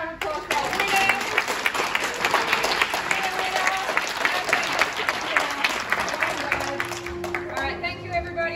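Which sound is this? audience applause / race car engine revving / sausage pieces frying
audience applause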